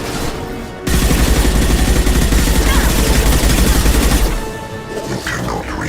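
Gunshots in the Mass Effect game, a sustained loud stream of rapid automatic fire lasting several seconds before dropping back to quieter ambient game sound.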